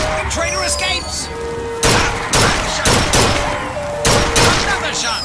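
Rapid gunfire at a fairground shooting gallery in BioShock Infinite, a loud cluster of sharp cracks in quick bursts over a busy game background with a carnival voice talking.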